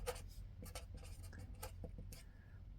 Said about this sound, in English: it's so funny how my handwriting changes depending on the surface you're writing on